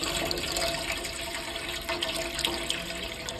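Tap water pours steadily into a 2-litre tupperware container, a continuous close splashing rush with no break for its full length.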